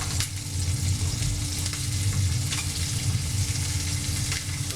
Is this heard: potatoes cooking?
yes